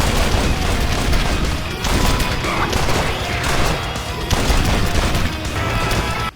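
Dense, continuous gunfire from Undead Nightmare's zombie battles, loud and relentless, with overlapping shots, booms and crashes across the whole stretch and no clear pauses.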